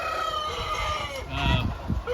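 Roosters and hens in a broiler farm crow and cluck over a steady background hum, with a louder burst of crowing near the end of the short stretch.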